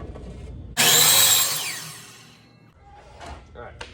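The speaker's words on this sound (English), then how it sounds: "I'm gonna set my miter saw to 30 degrees. I'm just gonna cut an angle right on the end of this" A miter saw set to 30 degrees cuts an angle across the end of a wide wooden fence picket, a loud burst of blade whine that spins up sharply, bites through the wood and winds down over a couple of seconds, followed by quieter shop handling noises.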